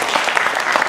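A steady round of audience applause at an inspirational speech event, dense, even clapping that is close and loud for about a second with no voices over it.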